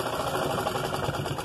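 Sewing machine stitching in reverse on a blouse, a steady fast mechanical whirr with an even rapid pulse, running alone close by for a moment.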